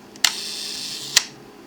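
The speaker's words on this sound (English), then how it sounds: "we want to listen for is kind of a whizzing sound that's going to last longer when it's on 1 than when it's on 300" A Peerflekta twin lens reflex camera's shutter fires at a slow one-second setting, with a sharp opening click, a steady close whirring buzz of nearly a second, and a second click as it closes, with no talk.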